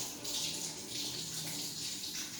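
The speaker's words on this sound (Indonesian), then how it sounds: "Lagi cuci tangan, lagi buka keran airnya." Water runs steadily from an opened tap as hands are washed, a continuous hissing splash that stays even and close throughout.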